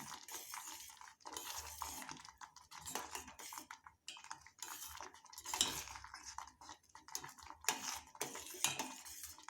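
Ghee kesari with fried cashews and raisins is stirred in a pan, with soft, irregular scraping and metallic clinks from a spoon, quiet and close.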